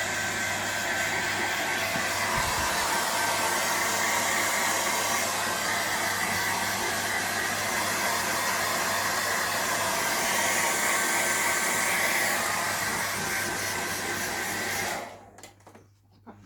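A hair dryer blows on a dog's coat at home, a loud, steady close-up roar that holds for about fifteen seconds before cutting off abruptly.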